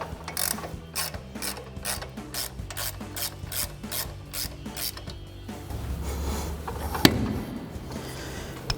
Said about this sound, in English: I'm gonna take my 1/2" drive now with my 18mm on it and just ratchet this out the rest of the way